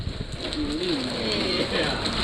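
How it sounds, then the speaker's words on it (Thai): Heavy rain pours steadily and loudly in Vang Vieng, Laos, on a motorcycle trip, a dense hiss filling the whole stretch with a brief voice-like tone in the middle. "ฝนกระหน่ำจริงๆฮะ"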